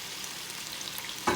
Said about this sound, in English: now I'm going to put all these nice good shrimp in there and just let them get sauteed up